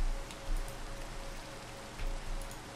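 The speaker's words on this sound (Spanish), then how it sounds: "Sí, señor, pero sigue lloviendo." Steady rain hisses down in the video game Minecraft, a dense, even wash of falling drops with a few louder gusts, heard alone without speech.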